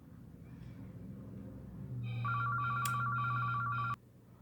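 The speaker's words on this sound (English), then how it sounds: "which I stopped it because the phone was ringing" A telephone rings with a steady electronic tone over faint background noise, sounding loud and close for about two seconds before cutting off abruptly.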